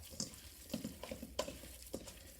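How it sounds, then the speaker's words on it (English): Ground sausage meat and seasoning mixed by hand in a bowl, soft wet squelching and slapping pulses in an irregular rhythm, close up and quiet. "I'm going to just take my hand and mix this all together"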